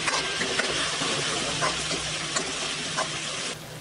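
Pureed tomatoes hit a hot pan of spices and oil, giving a steady close sizzle and hiss with a few soft stirring scrapes, fading slightly at the end.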